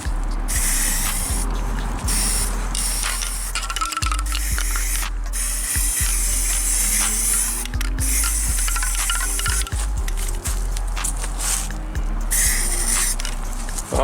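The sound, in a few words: spray painting the wood enclosure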